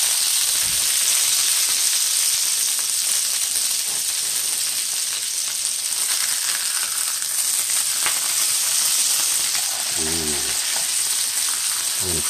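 Thick steakhouse burger patties sizzle on a hot grill, a steady loud frying hiss with crackles, a brief scrape or press near the end.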